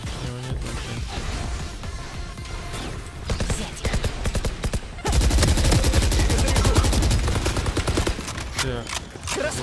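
Rapid automatic turret gunfire in a video game shooter, continuous bursts of loud crackling shots that intensify midway into a dense, sustained barrage close up, with no speech over it.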